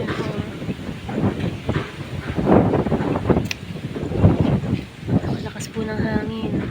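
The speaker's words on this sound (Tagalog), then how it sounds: "Grabe po lakas ng hangin, oh." Strong wind roars and buffets the microphone continuously in an open rice field, with gusts swelling and fading while people talk over it throughout.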